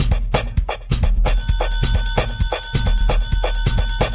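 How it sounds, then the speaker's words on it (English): Bright, ringing bell-like tones repeat over a pounding, bass-heavy electronic beat in a live DJ set, loud and continuous. "Alarm bells ringing and all sorts."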